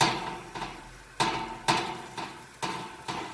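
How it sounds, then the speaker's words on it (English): An auger is worked into a smoker tube to clear creosote buildup, producing a series of sharp metallic knocks, about six at irregular intervals, each followed by a short ringing decay, close and fairly quiet. "Now watch what happens when I take the auger and run it into this tube."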